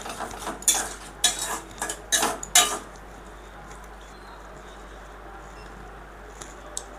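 A spoon stirs ivy gourd (kundri) chutney in a pan over low-medium heat, giving four or five sharp scraping clinks in quick succession near the mic, then fading to a faint, quiet background.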